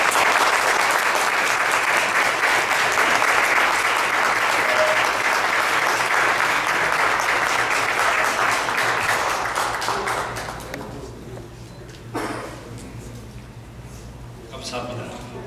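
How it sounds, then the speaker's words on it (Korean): A congregation at a thanksgiving worship service celebrating Georgia Christian University's accreditation gives a board chairman dense, sustained applause that holds steady for about ten seconds, then thins out into a few scattered claps. "다 같이 박수로 환영해주십니다."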